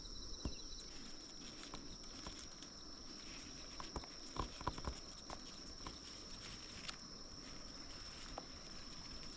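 Light rain at a hillside farm field, soft scattered pattering with occasional sharper drops, faint and distant beneath a steady high insect whine.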